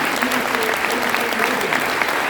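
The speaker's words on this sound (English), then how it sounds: "a round of applause for your outstanding" A conference audience at a panel claps together, a dense continuous patter of many hands at moderate distance filling the whole short stretch.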